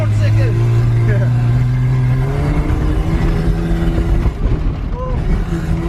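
A budget drift car accelerates hard in second gear on a track, its engine revving loud and close with rising, strained tones while someone talks over it.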